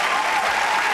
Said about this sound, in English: That was a very warm applause